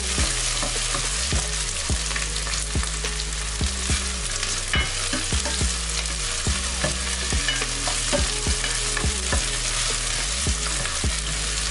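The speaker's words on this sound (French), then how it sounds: "Et je vais remuer." Red beans with tomato and sweet potato being stirred in a pot, with a steady sizzling hiss and repeated scraping strokes over a low background melody.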